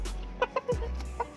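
An Aseel rooster gives a few short, sharp clucks spaced unevenly apart, close and fairly soft over a low background rumble.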